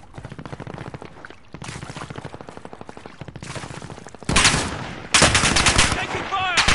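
Rapid automatic gunfire from a Call of Duty video game, bursts of machine-gun fire that grow louder and denser toward the end, with no talk over them.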